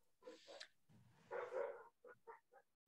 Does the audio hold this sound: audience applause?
no